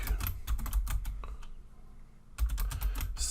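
Keys on a computer keyboard are typed in quick, close bursts, with a short pause mid-way before the rapid tapping resumes, alone with no talk.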